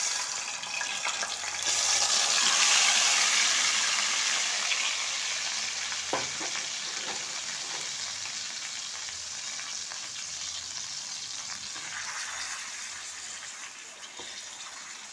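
Chicken marinated with salt, oil, green chilli, ginger, garlic and onion hits hot oil left from browning onions, giving a loud, steady sizzle that swells early, then holds as an even crackling hiss with a few soft clinks.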